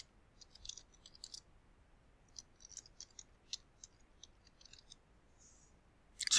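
Light, irregular clicks of typing on a computer keyboard, quiet and sparse over a faint background, in scattered bursts with a louder cluster at the end.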